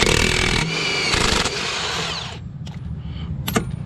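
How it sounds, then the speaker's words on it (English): A Makita power tool whines loudly and steadily for about two seconds during a semi truck rear wheel seal job, then winds down, followed by a few sharp clanks of metal. "We got that Makita"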